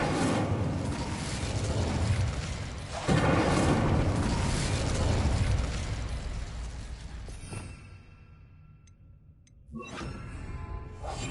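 Incendio fire spell cast in Hogwarts Legacy, a loud roaring burst of flame with booming whooshes that swell, cut off abruptly, then flare again briefly near the end.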